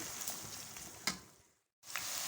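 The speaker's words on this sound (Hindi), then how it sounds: "प्याज जो है ऑयल में डाल लेंगे और प्याज को फ्राई होने के लिए रख लेंगे।" Sliced onions sizzling in hot oil in a pan, a steady fizzing hiss with a few sharper crackles and a brief drop to silence before the sizzle resumes.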